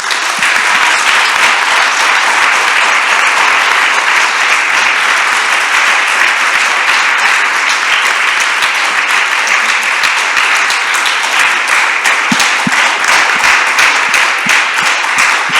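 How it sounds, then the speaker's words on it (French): Sustained, loud audience applause fills the room from start to finish at a women's mobilisation conference, a dense, even wash of many hands clapping with no voices standing out. "Je voudrais qu'on l'applaudisse très fort."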